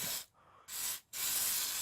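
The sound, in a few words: spraying cleaner from a can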